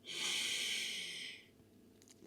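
Deep breathwork during a movement and visualization meditation: one long, loud airy breath lasting about a second and a half, then fading into quiet with a faint soft rustle at the end.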